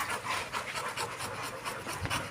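An American bully dog pants close by in quick, steady, fairly quiet breaths that go on without pause and with no talking over them.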